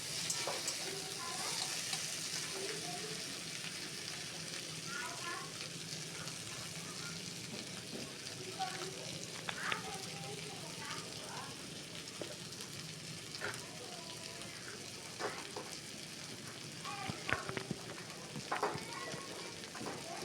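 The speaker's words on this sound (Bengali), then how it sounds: "এভাবেই সবজিগুলোকে কিছুক্ষণ নাড়াচাড়া করে রান্না করে নিতে হবে।" Potato, pointed gourd, tomato and other vegetables sizzle and crackle in a hot kadai for a Bengali home lunch, a steady bright frying hiss with occasional scraping clicks of the spoon as they are stirred, and a quiet voice speaks over it.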